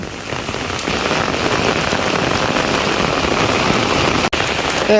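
Heavy monsoon rain pours steadily and loudly in a village, a dense continuous hiss of drops hammering a surface, with no voices.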